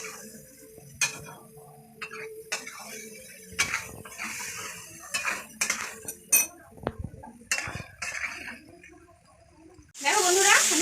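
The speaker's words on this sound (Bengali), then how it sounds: "দেখো বন্ধুরা, আমি এটাকে কষাচ্ছি" Ghugni is sautéed in a pan, with scattered metallic clinks and scrapes of a spoon against the pan over a quiet background, then a louder burst of hissing at the end.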